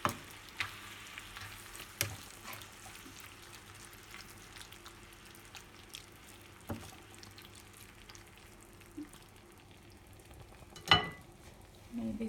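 Food for a Lithuanian Christmas Eve herring dish fries quietly in a pan as it is stirred, giving a faint, steady sizzle with a few scattered clicks and scrapes, one louder near the end.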